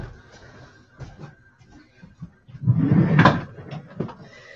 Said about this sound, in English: And closing the door.